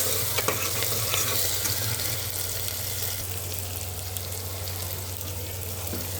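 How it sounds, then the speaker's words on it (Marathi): Onions fry in a pan until browned, making a continuous close sizzle and occasional stirring clicks over a low steady hum. "कांदा असा चांगला लाल परतून घ्यायचा."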